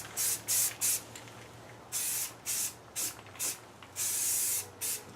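Self-etching primer is sprayed from a can onto a metal Cherokee bumper in short, loud hissing bursts, about a dozen close pulses of uneven length with brief gaps between.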